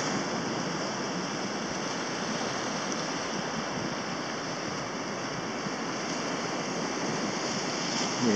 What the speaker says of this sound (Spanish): Están levantando algunas lindas olas ahora